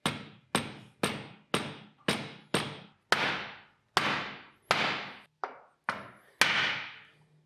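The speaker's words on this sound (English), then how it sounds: "plastic hammer to start with. We can just tap it down." Plastic hammer taps down on a socket seated over a ceramic bearing on a BMX bicycle, about a dozen sharp, close knocks in a steady, slightly uneven rhythm with brief ringing decays, no talk.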